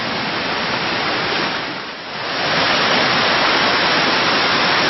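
Sai Rung waterfall, dropping down a cliff in the forest, pours with a dense, constant rushing roar close by, dipping briefly in level before resuming at full strength.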